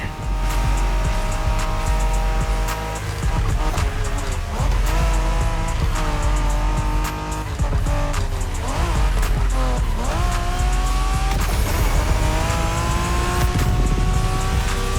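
Cars street race through Japan in the video game Motorfest, with engines roaring and revving constantly and tires squealing again and again as they slide through corners. The sound is loud and dense for the whole stretch.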